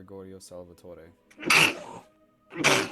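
Two sharp sneezes burst out a second apart, close and fairly loud, following a short spoken name at the start.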